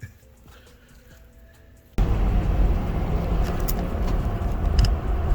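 A Subaru WRX with a newly fitted transmission out on a test drive: after a brief quiet stretch, a loud, steady roar of engine and road noise rises and holds through the rest.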